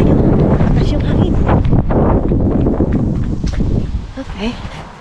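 Strong, gusty wind in Finland buffets the microphone with a steady broadband roar, easing slightly near the end.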